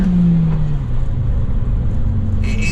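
A cheap Volkswagen Golf GTI accelerates hard at full throttle on a wavy country road, its engine droning and rising in a steady, loud rumble heard from inside the car for a few seconds.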